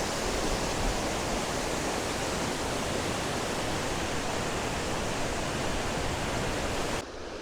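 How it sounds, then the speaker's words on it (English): A partly frozen Arctic waterfall near Tromso, Norway, roars as steady, dense broadband rushing water, loud and unchanging, cutting off abruptly near the end. "This is the frozen Artic waterfall"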